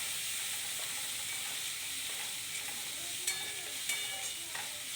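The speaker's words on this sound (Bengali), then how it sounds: "এবার ভালো করে মশলাটা আমরা কষিয়ে নেব" Spice paste of garlic, ginger and cumin with coriander and turmeric sautés in a pan for a pointed gourd dish, a faint steady sizzle with a few soft stirring clicks.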